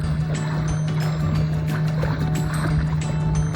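A hybrid fishing kayak with an electric motor and pedal drive moves across open water, giving a steady motor hum beneath continuous splashing and churning of water along the hull, close and fairly loud throughout.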